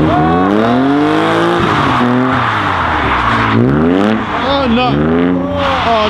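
A car drifting around cones at a drift game event, its engine revving up and down in loud swooping pitch sweeps with tire squeal, while people's voices carry on over the noise.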